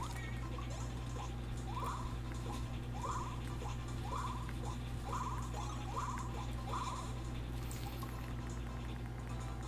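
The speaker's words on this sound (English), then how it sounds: "I love the sound effect when it comes to picking up the babies. That blunk, blunk, blunk." Repeated short blip effects from Mario & Luigi: Partners in Time as the babies are picked up, about six evenly spaced bloops over a steady low background hum.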